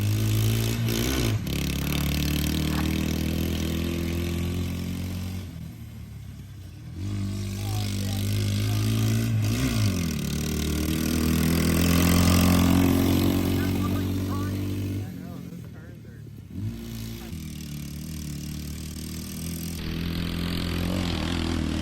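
A mini Jeep and a Suzuki DR200 dirt bike race on a track at full throttle, their engines droning and rising and falling in pitch through gear changes, loud and fairly close, with people talking over them.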